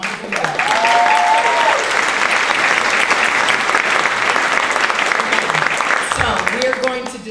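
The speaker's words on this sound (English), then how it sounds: "I want to applaud all of you upper school students, all of you." A school audience at an upper school awards assembly breaks into long, loud, steady applause, with a few voices audible briefly over the clapping.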